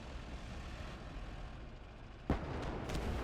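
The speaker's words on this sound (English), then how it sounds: "You can hear that mortar just behind that tree line." Distant mortar fire behind a tree line in the WWII game Gates of Hell, during a Soviet convoy ambush: a low rumbling battlefield bed broken by one sharp, heavy blast, followed by lingering booming reverberation.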